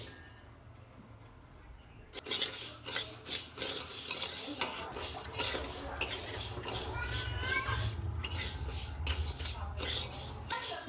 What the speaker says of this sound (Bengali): হালকা করে ডালটা ভেজে নেব